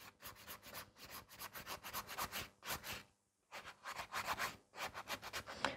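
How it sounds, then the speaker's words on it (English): A hand-held nail file scrapes back and forth across acrylic nails to thin the bulk, giving steady rhythmic rasping strokes up close. One brief pause breaks the passes, and no one talks. "So I keep filing to remove this bulk."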